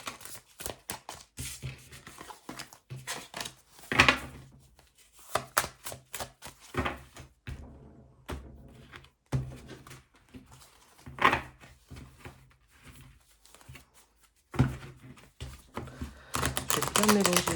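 A deck of tarot cards is shuffled in quick bursts of crisp, papery clicks and riffles, with quiet gaps between them and someone talking over parts of it.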